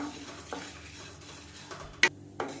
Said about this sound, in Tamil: இதையும் சேர்த்து இதோட நல்லா வறுத்துக்கலாம்